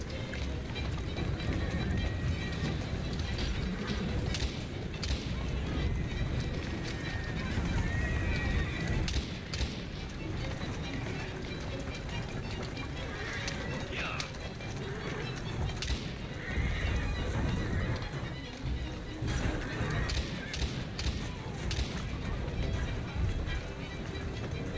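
A horse whinnies several times over steady hoofbeats clip-clopping at a run in Assassin's Creed Syndicate, with a busy game soundscape and faint voices underneath.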